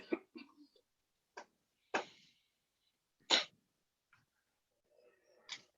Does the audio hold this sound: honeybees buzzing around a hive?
no